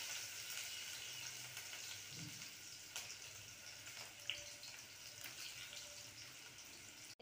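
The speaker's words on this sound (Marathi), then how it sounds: "तेलामध्ये कांदा टाकणार आहे आता।" Onion fries in hot oil in a home kitchen, a soft, steady sizzle and hiss heard faint and close with a few small clinks.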